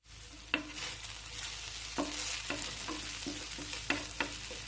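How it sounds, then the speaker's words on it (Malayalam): Caramel garlic chicken sizzles and fries steadily in a pan, with several sharp scrapes and clacks of a spoon stirring and turning the pieces. The close, continuous sizzle is heard alone, with no talking. "ഷിമ്മിൽ വേണം വെക്കാൻ. ഇതിപ്പോൾ എല്ലാം തിരിച്ചിട്ട് കഴിഞ്ഞിട്ടാണ് അതൊന്നുകൂടി മൂടി വെക്കാം."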